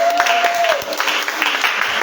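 A church congregation applauds together in a steady, dense wash of clapping, loud and close, with a sung tone briefly rising over the start.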